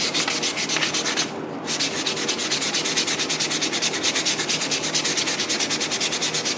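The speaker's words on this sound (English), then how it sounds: "And you just sand this down, okay? Sand her down nice until it's at the smoothness that you want" Close, loud sanding with a file stick, a continuous rapid back-and-forth scratching with a brief pause near the start, no voices.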